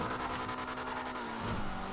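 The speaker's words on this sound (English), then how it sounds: "This car is mad fast." An Audi RS3 engine in the video game GTA V drones steadily under acceleration, a sustained close engine tone that dips and shifts near the end, with no talking.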